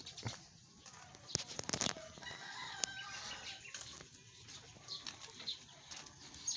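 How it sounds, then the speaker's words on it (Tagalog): Backyard chickens cluck near a home, with a rooster crowing loudly in a sharp burst partway through and some wing flapping, against quiet rural background sounds. "Yung mga manok ko"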